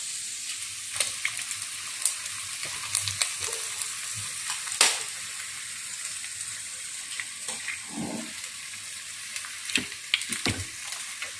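Vegetables sautéing in a pan over low heat crackle and sizzle steadily, broken by occasional spatula scrapes and taps against the pan.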